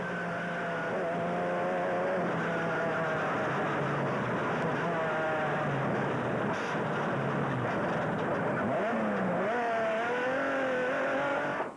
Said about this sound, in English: race leaders Gert and Caroline Juster in the Atlas Copco Sandmaster.